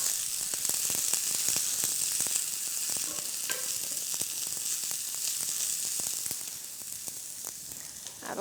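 Coconut curry taco filling with colorful vegetables sizzles steadily in a hot pan, a dense continuous frying hiss with faint stirring clicks, close and alone, easing slightly toward the end as the heat is turned down.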